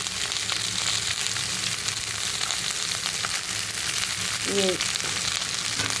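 Potato and green garlic sabzi with green chilli fries on high heat in a pan, a steady loud sizzle running unbroken while a voice briefly speaks.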